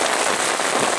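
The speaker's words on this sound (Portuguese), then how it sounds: "Aqui debaixo de chuva, muitas chuvas" Heavy rain near the Acaraú river pours down in a dense, steady hiss of drops, loud and continuous throughout, with no voices heard.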